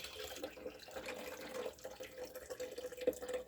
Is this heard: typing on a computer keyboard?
no